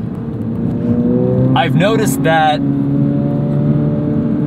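A Subaru BRZ sports car drives with a steady engine drone and road hum throughout, while a person talks briefly over it from inside the cabin.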